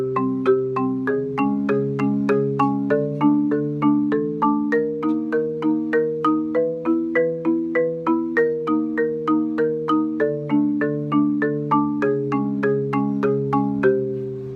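A marimba played with four mallets rolls through a steady, repeating pattern of struck chords, each note sharp at the attack and quickly fading, clear and close with no talking.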